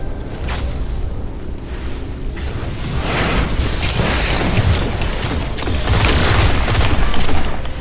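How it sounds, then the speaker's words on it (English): Hawksaw pulse rifle from the video game Destiny firing in steady bursts, a dense, continuous, loud barrage of booming game gunfire and mechanical clatter with no speech. "So here's the sight, and this is how it shoots. It's a pulse rifle."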